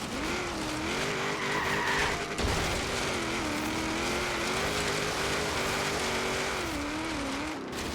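American muscle car sliding and skidding in Forza Horizon 3, steady engine drone with continuous tire squeal throughout, loud and close, no talk.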